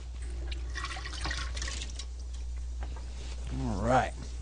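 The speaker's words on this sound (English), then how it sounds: "Rinse my hands off." Tap water runs as hands are rinsed under it in a home kitchen, a soft steady splashing that swells near the end, faint and close.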